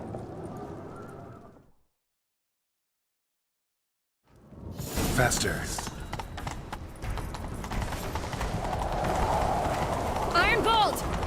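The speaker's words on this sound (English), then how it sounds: "Grab a horse, we'll chase him down." Horses galloping hard during a chase in The Witcher 3 video game, a steady rapid clip-clop of hooves that swells after a short silence, with a shouted voice and game sounds over the running.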